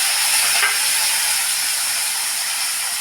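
Fenugreek, green chilli, curry leaves, tomato and onion sauté with mustard seeds in hot oil in a pan, a loud, steady close-up sizzle with a brief scrape of stirring near the start.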